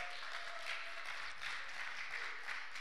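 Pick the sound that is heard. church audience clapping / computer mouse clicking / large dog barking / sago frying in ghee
church audience clapping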